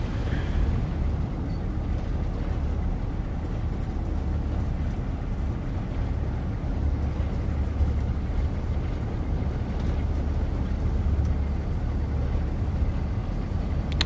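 A Class 45 diesel locomotive on a double-headed Northern Trans Pennine service in Train Sim World 3 gives a loud, steady low engine drone and rumble that holds evenly throughout, with no talking over it.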